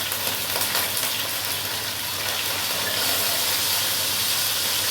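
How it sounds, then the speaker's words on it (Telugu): Chicken pieces fry in a hot pan for chicken pulao, giving a loud, continuous sizzle and hiss with steady steam and occasional stirring noises throughout. "ఈ చికెన్ కొంచెం ఫ్రై చేసుకోవాలండి"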